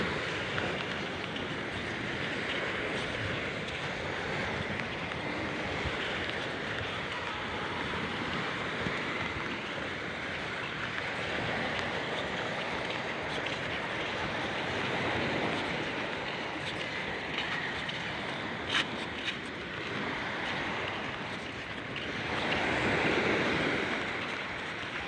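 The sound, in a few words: strong sea current and waves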